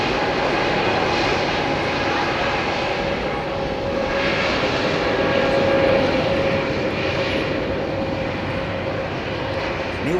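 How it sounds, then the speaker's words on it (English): Airbus airliner jet engines roar steadily through a takeoff run at Heathrow Airport in the evening, a loud, continuous broadband rumble with a faint whine that swells slightly midway, with no talk over it. "it will be a complete hands-free takeoff run right from the get-go, from this point here"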